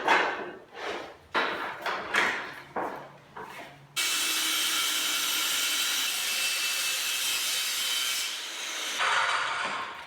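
Wooden boards for a workbench are hand-sawn, first in about eight separate rasping strokes, then in one long continuous run of cutting, loud and close.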